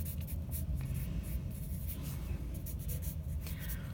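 A pencil lightly sketches robot shapes on paper, making quick, close scratchy strokes in short bursts over a low steady background hum, with no talking.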